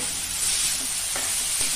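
Loud, continuous sizzle of onions frying in hot oil, with a faint scrape partway through.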